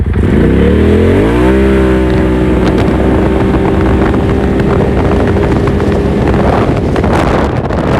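A 2021 Polaris RZR XP Turbo side-by-side with Trinity exhaust, clutch kit and 32-inch tires accelerates hard on asphalt in two-wheel drive, a loud rising engine roar that holds high over heavy wind noise.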